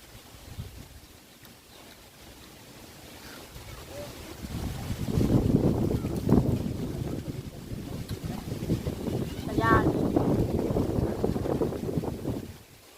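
Strong wind blows across open water from a boat, a steady rushing roar with microphone buffeting that swells and stays loud, while a person talks over it.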